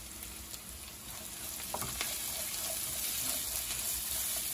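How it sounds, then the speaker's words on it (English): Onions frying in a pan with garlic and black pepper for a keto Indian vegetarian khichdi, giving a steady low sizzle throughout with a brief stir or scrape near the middle and no talking. "we're going to cook this until the onions are translucent"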